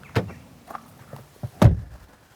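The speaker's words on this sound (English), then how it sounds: "Once the quality door thunks shut" A BMW iX1 electric SUV door closing, a few light clicks and handling noises followed by one solid, deep thunk, close by, with no talking.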